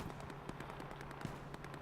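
Distant machine gun fire in the WWII shooter Hell Let Loose, a faint, rapid, regular stream of shots over a low battlefield rumble.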